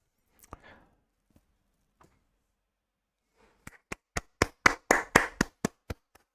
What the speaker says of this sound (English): I'm actually clapping at myself.